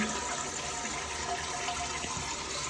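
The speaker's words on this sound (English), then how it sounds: "you flush your toilet" A toilet flushes during a fill valve repair, a steady, close rush of gushing and swirling water filling the whole span without pause, with no talking.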